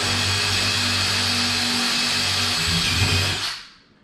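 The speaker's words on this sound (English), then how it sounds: "drilling a hole in each end." A power drill whirs steadily at close range for about three and a half seconds drilling a hole in a wooden concrete form, then winds down and stops.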